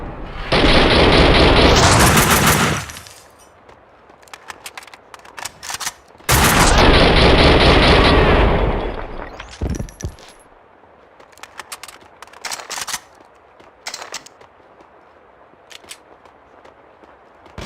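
Gunfire in the video game Max Payne 2: two long, loud bursts of rapid automatic fire, each lasting a few seconds, followed by a scatter of single shots, impacts and clatter at lower level.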